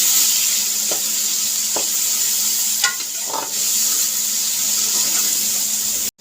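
Vegetables fry with tomatoes in a pan for potato-cauliflower curry: a loud, continuous sizzle with a few light stirring scrapes and clicks, cutting off abruptly at the end.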